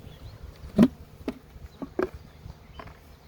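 Honey bees buzz faintly around a one-to-one sugar syrup feeder in a queen-rearing hive, with a few short, louder passes of single bees close by over a low, steady hum.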